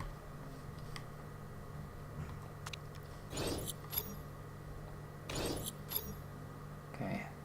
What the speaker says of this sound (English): those noises, those are sponsor offers coming in